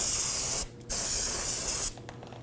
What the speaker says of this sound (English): go ahead and spray it down.